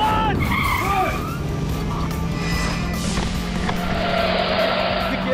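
A car starts suddenly and pulls away with loud squealing, skidding tyres and a roaring engine, sustained and close for several seconds.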